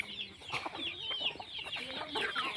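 Several chickens cluck and chatter in a busy flock outdoors, overlapping bursts of clucking at moderate distance, fairly faint and continuous throughout.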